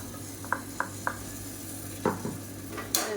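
A spoon stirs and scrapes in a pan as three medium tomatoes, blended to a purée, are added to a Tamil kulambu curry and sautéed in oil. Sparse, quiet clinks and scrapes sound over a low background hum.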